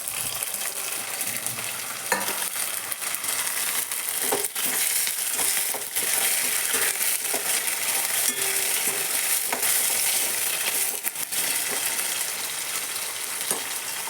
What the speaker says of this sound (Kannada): ಚೆನ್ನಾಗಿ ಫ್ರೈ ಆಗಲಿದು ನೋಡಿರಿ